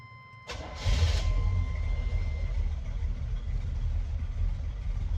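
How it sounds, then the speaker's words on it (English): A drag racing car's built 350 V8 engine cranks and fires up, then settles into a deep, loping idle with an uneven, lumpy rumble, steady and close. "That nice, low, lumpy idle."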